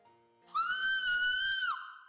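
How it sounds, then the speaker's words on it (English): A loud, sustained high-pitched scream from an animated episode, rising sharply and holding steady for over a second before cutting off into a lingering tone, with no talk over it. "That scream was quite loud"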